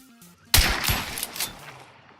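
A sudden loud burst of gunfire in Hunt: Showdown, a sharp crack followed by a rapid ragged volley of shots and echoing reports that fade over about a second and a half, close and alone without talk.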